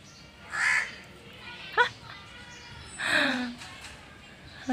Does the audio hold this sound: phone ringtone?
no